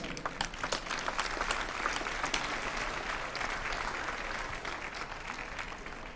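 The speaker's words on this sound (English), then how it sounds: "Let's have a hand for these ladies." Spectators at the 2011 US Table Tennis Championship women's singles semifinal applaud steadily, a dense wash of many hands clapping at a moderate distance, sustained and fairly even throughout.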